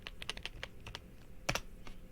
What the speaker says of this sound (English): I'm typing it now to you.